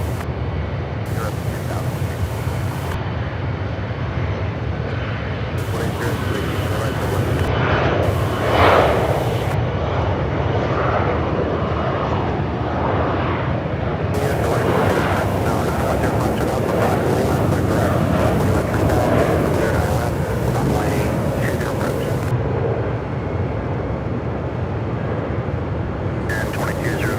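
An Embraer ERJ 145 regional jet at Charlotte Douglas airport gives a steady, fairly loud engine roar that lasts throughout, with broadband rumble and some wind buffeting.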